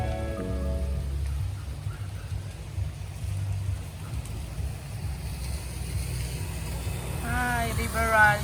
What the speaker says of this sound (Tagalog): Inabot po kami ng ulan.